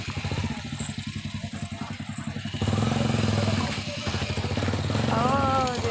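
A motorcycle engine runs steadily nearby on a village outing, with a pulsing mid-range rumble that grows louder partway through while voices talk over it.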